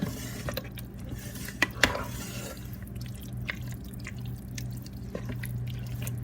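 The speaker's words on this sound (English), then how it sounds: "as you add the items, stir them in so that nothing overflows at the end of the process" Chili ingredients are stirred in a crockpot, with a few sharp spoon knocks against the pot and wet dripping, squelching sounds over a low hum.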